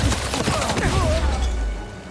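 A burst of gunfire crackles in Spider-Man 2, a dense rapid volley of shots over a low rumble.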